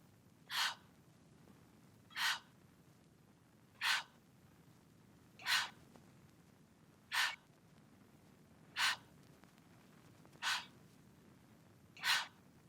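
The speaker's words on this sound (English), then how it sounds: "So when we listen to all of these breath sounds" Eight sharp layered breath samples, evenly spaced about every 1.6 seconds, used as percussion in music production, each a crisp, airy gasp-like inhale standing out clearly over a low, quiet background bed.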